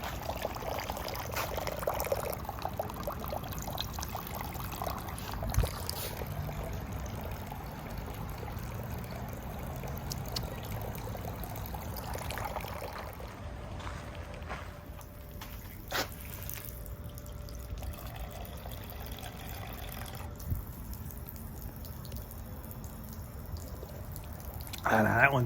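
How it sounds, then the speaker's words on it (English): Water runs steadily from a fountain, a continuous splashing pour heard close up throughout with a faint drip and occasional background noise. "Another fountain."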